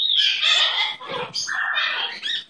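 A pet bird chirps and whistles in a near, continuous run of bright, varied calls with no talking.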